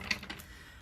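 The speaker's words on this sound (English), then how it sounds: "these cards are kind of like hard for me to shuffle" Tarot cards rustle and flick together in a short, soft riffle of a few quick clicks, faint and close, with no talking.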